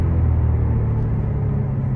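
A Ferrari 488 Pista in city traffic in Bucharest gives a loud, close, low engine rumble that holds steady throughout, with no one speaking.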